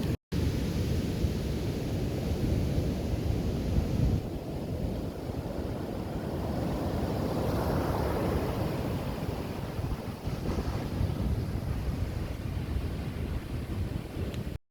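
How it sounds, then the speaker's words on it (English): Big ocean waves breaking and washing in at Playa Zicatela, a surf beach in Puerto Escondido, Oaxaca, Mexico, in a steady loud roar with rising swells, mixed with wind buffeting the microphone and no voices. "Waves are getting bigger, real big down there."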